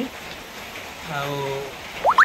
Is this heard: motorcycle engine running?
no